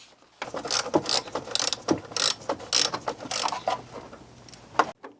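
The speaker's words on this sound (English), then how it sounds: "right now we got the T30 on a ratchet with a short extension" A ratchet with a short extension and T30 bit works loose fasteners on the fan shroud of an MK6 Volkswagen Jetta, giving close, rapid bursts of clicking pawl strokes in an uneven rhythm with short pauses between.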